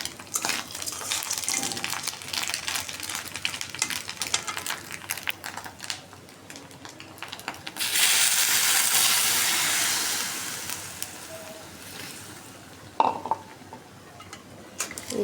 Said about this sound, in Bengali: এখন একটু গরম পানি দিয়ে দেবো